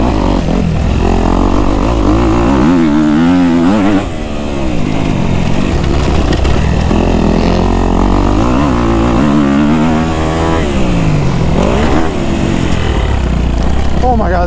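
Kawasaki KX250F and Yamaha YZ250F dirt bikes race close together on a bumpy track, their loud four-stroke engines revving and shifting constantly, with wind buffeting and a rider talking over the noise.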